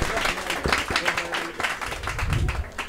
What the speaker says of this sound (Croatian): jedan aplauz za ovoga naše eksperimentatore